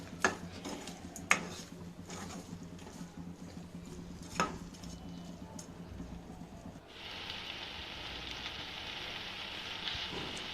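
A utensil stirs tomato chutney with chili, salt and turmeric in a pan, giving occasional sharp scrapes and clinks against the metal over a low cooking hiss that grows into a brighter steady sizzle partway through.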